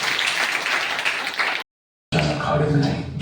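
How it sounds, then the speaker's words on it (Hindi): An audience bursts into loud, dense clapping that is cut by a brief silence before more sound resumes, with a voice talking over the later part. "बस जोरदार ताली आपके लिए"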